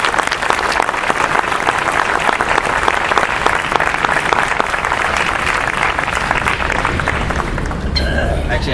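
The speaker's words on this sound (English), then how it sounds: "So I want to give you a big round of applause." A big round of applause from a gathered crowd at a tribute, steady dense clapping filling the space throughout, with a brief spoken voice near the end as it trails off.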